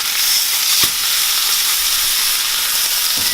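A steak searing in a hot pan gives a steady, loud sizzle with bright hiss throughout, broken by a couple of brief crackles from spattering fat.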